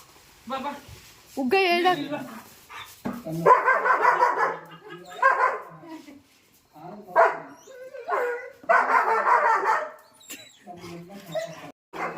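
A dog barks and yips in repeated bursts, loud and close, between stretches of people talking at home.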